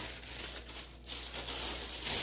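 Plastic bag crinkling as oiled dough for whole-wheat msemen is slipped inside, a soft, steady rustle close by with no voices.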